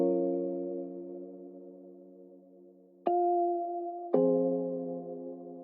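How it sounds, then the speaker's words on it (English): A simple sustained chord from the Omnisphere software synth rings steadily and fades slowly, then switches to a brighter voicing around the three-second mark and returns to the first chord about a second later, each change marked by a soft attack. "Just a very simple chord, sounds like this. I'm using Omnisphere."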